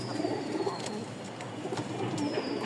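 Pigeons coo steadily at a rooftop loft in Mirpur, Dhaka, Rajshahi Giribaj high-flying tumbler pigeons among them; soft, repeated low coos overlap throughout with faint bird chatter in the background.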